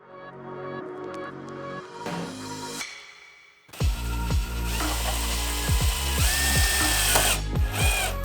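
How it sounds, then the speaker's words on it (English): A power drill self-taps screw holes into a carbon fiber front lip on a BMW F80 M3, starting with quieter tool handling, then a loud, sustained whir with repeated bites and pitch sweeps. "we're just going to self-tap 1, 2, 3, 4, 5 holes in this thing"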